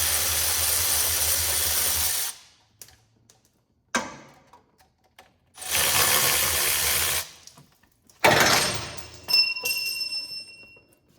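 Transmission fluid from a 6L90E transmission on an Isuzu NPR streams and drips from the pan in loud splashing bursts separated by silent gaps, followed by a few bright metallic clinks near the end.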